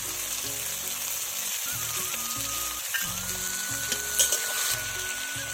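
Ginger and garlic paste fry with chopped onion in a pan, giving a dense, continuous sizzle up close, with occasional stirring clatter and a faint tonal whine in the background, and no voices.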